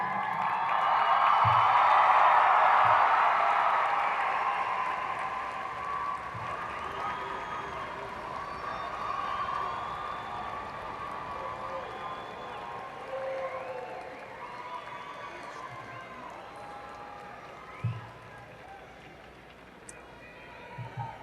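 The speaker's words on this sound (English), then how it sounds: "give your support group a round of applause sitting behind you" Graduation ceremony crowd applauding and cheering for family and supporters seated behind them, loudest early then thinning into scattered clapping and murmur with occasional knocks.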